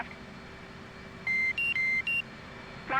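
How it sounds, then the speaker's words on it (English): Electronic warning beeps sound inside an F-18 cockpit in the flight simulator DCS, four clipped tones in quick succession over a steady cockpit hum. "We can hear all those beeps again."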